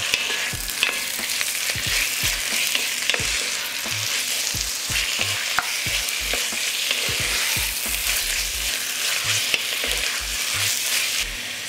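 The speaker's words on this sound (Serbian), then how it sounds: "Iseckano meso dodat ću u luk i šargarepu" Chopped beef sizzles with onion and carrot in a hot pan, a dense continuous hiss broken by frequent soft knocks and scrapes of stirring, close and without talk.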